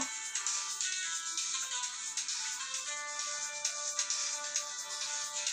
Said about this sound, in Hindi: फोन आ गया बीच में